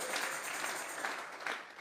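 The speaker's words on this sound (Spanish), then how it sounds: "Vamos a regalarle ofrenda de palmas al Dios de la gloria." Church congregation applauding during a Tuesday Bible study service, a steady wash of many hands clapping at moderate distance with no talk over it, sustained through the whole moment.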